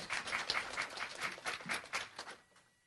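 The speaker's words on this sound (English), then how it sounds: "Yes, you may applaud." A studio audience applauds a singer: lively, steady hand clapping from a small group, close and moderately loud, tapering off and fading out toward the end.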